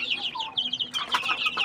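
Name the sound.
native chicken chicks clucking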